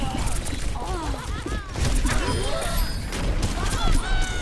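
Grenades dropped by Junkrat on death in Overwatch go off as a burst of crashing explosions amid busy battle noise, with voices talking over the chaos.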